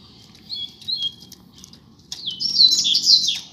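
A pair of coleiro birds, male and female, sing outdoors on a street, with bright chirping trills that start in short bursts and then swell into a loud, continuous warbling song toward the end.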